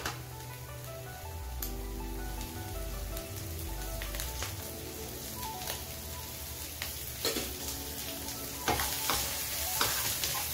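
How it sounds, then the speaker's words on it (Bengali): Food stirred in a frying pan with butter and black pepper, continuous crackling sizzle with scraping and stirring noises over a low hum, no talk. "একটু নাড়িয়ে নেব।"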